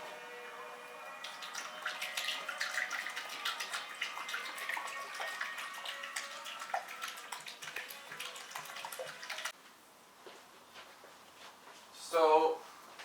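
Coolant being poured into a BMW S1000RR sport bike, a steady trickling and splashing of liquid for several seconds that stops abruptly, followed by quiet and a short burst of noise near the end.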